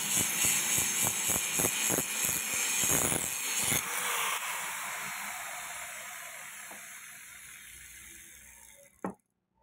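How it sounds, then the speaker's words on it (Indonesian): An angle grinder works a kukri knife blade, a harsh, loud hiss with rhythmic pulses as the disc bites the steel, then spins down and fades, ending with a single sharp knock; no talking. "di gerinda seperti biasa"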